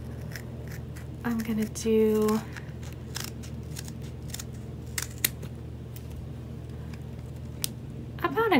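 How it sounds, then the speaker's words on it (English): Scissors snipping sections out of material for a homemade sensory toy, a few short crisp cuts scattered through the stretch, faint and close, while a person talks. "now what we're gonna do is we're gonna cut six little sections out of it"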